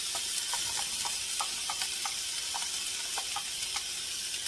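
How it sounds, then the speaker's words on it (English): Extra lean ground beef and a small chopped onion browning in a skillet, a steady bright sizzle with scattered sharp pops and crackles, close and constant without speech. "I'm going to brown some extra lean ground beef, a small onion"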